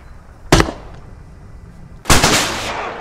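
A TOW missile explodes in the military shooter game Squad as two sharp blasts about a second and a half apart; the second is louder and trails into a rumbling, crackling tail.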